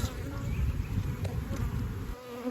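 Honey bees buzz loudly around an open hive during a split, a dense, steady close-up drone that holds throughout, with light handling noise.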